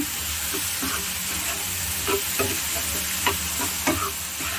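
Pepper, fennel and cumin being stirred and fried in a pan over a low flame, a continuous close sizzle broken by a series of scraping stirs, heard on its own without talk.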